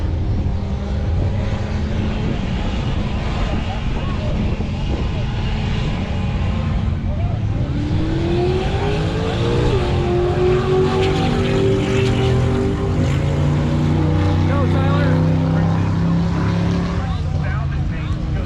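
Two drag race cars launch side by side at Great Lakes Dragway. Loud engines roar continuously, then climb sharply in pitch as the cars accelerate hard away down the strip, the revving rising through several gear pulls.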